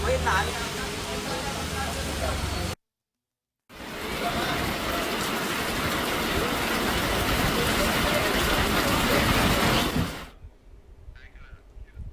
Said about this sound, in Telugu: ఒక్కసారిగా ఆకాశం మేఘామృతమయ్యి భారీ వర్షం కురిసింది